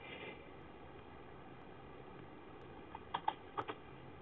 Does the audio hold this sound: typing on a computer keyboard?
yes